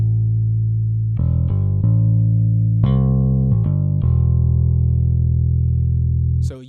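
The default patch of the MODO BASS plugin, a deep electric bass playing a short line of several plucked notes with strong low sustain, loud and close, ending with a brief high click and no talk.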